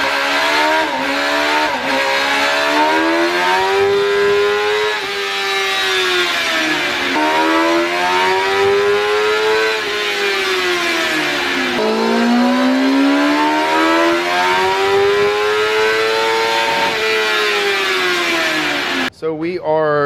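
A stock 2024 Kawasaki ZX-10R sportbike with stock exhaust and air filter runs on a dyno, its engine climbing through repeated rising sweeps to a loud, high-pitched wail, easing off between pulls, then cutting out sharply at the end.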